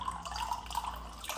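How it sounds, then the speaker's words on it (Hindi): Filtered water pours from a home water filter into a clean glass, a soft continuous trickle with dripping, close and fairly quiet, with no talking. "ये रहा हमारा साफ गिलास और इसके ऊपर फिल्टर शुदा पानी पियेंगे हम"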